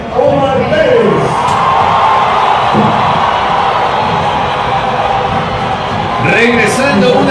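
Stadium crowd at El Campín applauding and roaring after a goal in a Santa Fe versus América football match, a dense sustained wash of cheering and clapping with a commentator talking over it throughout.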